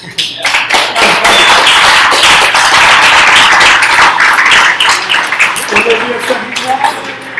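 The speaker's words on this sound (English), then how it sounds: "Round of applause, please." A class audience at General Assembly applauds with dense, steady clapping that swells quickly and tapers off toward the end, with some voices mixed in.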